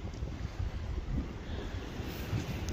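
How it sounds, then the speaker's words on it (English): Sea waves roll in and crash along the shore below a pier at South Shields and Roker in the UK, a continuous low rumble of surf mixed with buffeting wind noise on the microphone, no voices. "Waves are crashing up along the shore."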